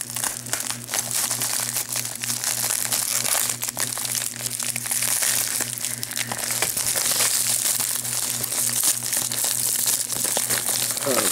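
Plastic wrapping crinkles and crunches close up as a Lego package is opened, in irregular bursts over a steady low background hum.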